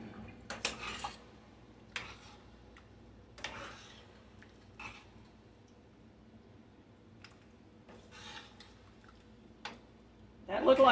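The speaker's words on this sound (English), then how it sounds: "I'm going to get a spoon, get this stirred in." A spoon clinks and scrapes against a pot while food is stirred in a home kitchen, a few separate close metallic taps and scrapes spread out over quiet background, ending in a louder clatter.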